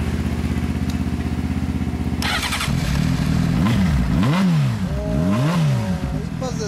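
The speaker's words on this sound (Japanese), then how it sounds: "エンジン音聞かせてもらえるかな" A 2003 Honda CBR600RR motorcycle idles steadily up close, then its engine revs sharply in several rising and falling blips. A voice is faintly audible near the start.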